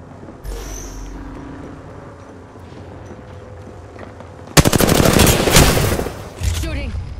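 Video game gunfire erupts partway through as a loud, dense burst of rapid automatic shots that lasts about two seconds, then trails off, after a quieter stretch of faint game ambience.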